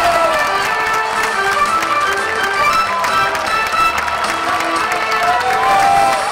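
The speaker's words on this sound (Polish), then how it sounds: "wielkie brawa!" Outdoor crowd at a Tour de Pologne cycling stage finish in Lublin cheers and claps for a sprint leader, a dense continuous roar with tapping claps and shouts, fairly loud throughout.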